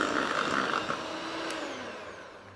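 Electric mixer whirring steadily as it blends ingredients for a strawberry elderflower cheesecake entremet, loud at first and then easing slightly toward the end, with a brief knock partway through.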